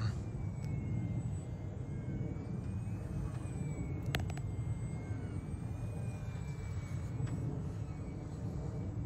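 A small Horizon Hobby UMX Air Tractor radio-controlled plane whines overhead, its electric motor pitch rising and falling as it flies, over a steady rumbling outdoor background with a couple of sharp clicks.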